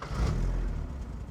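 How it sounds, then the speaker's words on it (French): A Porsche engine rumbles low and steady nearby, with a rough, uneven exhaust note from a leaking, rotted exhaust line, and slight revving. "la fuite à la ligne d'échappement qui empêche la voiture de tourner correctement, elle fait un bruit vraiment dégueulasse"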